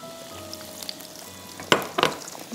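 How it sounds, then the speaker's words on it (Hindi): Fries drop into hot pomace olive oil, setting off a sudden loud burst of bubbling sizzle after a quiet, faintly humming start, then a second surge that keeps seething close by. "हम इसको इटालिया के पॉमेस ऑलिव ऑयल में अपने फ्राइज़ को हम फ्राई करेंगे"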